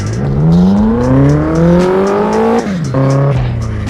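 Tofaş car engine in the Assetto Corsa driving game, revving up through rising pitch, dropping briefly, then climbing again with a loud throaty drone and slight tire squeal, close and alone.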